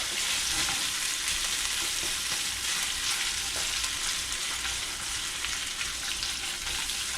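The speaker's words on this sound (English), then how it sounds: "And with the bacon and onion cooking, it smells amazing" Bacon and onion fry in a pan, a moderate, even sizzle with faint crackles running unbroken for about seven seconds and no voices over it.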